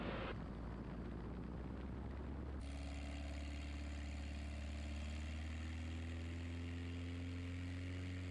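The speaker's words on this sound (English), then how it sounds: "that's the prop digging in. Got a good engine." Van's RV-7 aircraft engine and propeller droning loudly and steadily in flight, a strong continuous hum with a shift in tone after a couple of seconds as the prop bites, with no voices.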